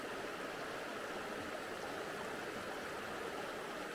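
The silty, glacier-fed Blaeberry River flows in a steady, even rush of moving water, constant and fairly faint, with no voices over it.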